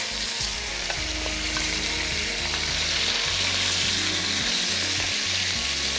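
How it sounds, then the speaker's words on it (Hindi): Chicken frying in oil on a tawa fills the air with a dense, loud, continuous hiss and crackle, steady throughout with low rumbling underneath and no voices. "अब चिकन को करते हैं फ्राई"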